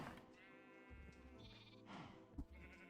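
Several synthetic Minecraft sheep bleats ring out in steady succession, with a short sharp blip near the end, slightly tinny like game audio.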